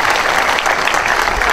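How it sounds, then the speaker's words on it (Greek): Audience applause at a charity benefit concert, dense and steady clapping from a large crowd, loud and close throughout with no talk over it. "Αξίζει ένα χειροκρότημα σε εσάς."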